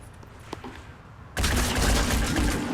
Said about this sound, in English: So you got to see your chaos gun with the piercing damage, and as you saw, it was quite useful.